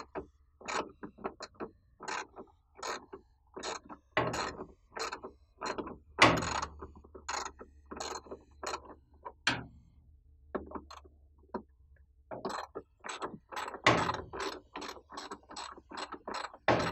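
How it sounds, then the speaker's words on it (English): A 13mm socket wrench ratchets to loosen a screw on a drive motor, giving quick clicking bursts in an uneven rhythm, close and fairly quiet, with no voices. "now we use a 13mm socket in order to release this screw here"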